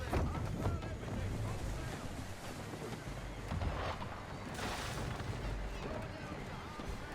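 A sailing ship running under full sail in Assassin's Creed III, with steady wind rush and churning water filling the scene, punctuated by a few louder gusts and distant booms.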